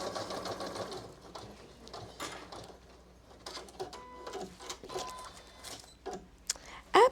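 A Janome Memory Craft 1000 embroidery machine stitches steadily for several seconds with a fast, even mechanical rhythm, close and clear, and no one speaks over it.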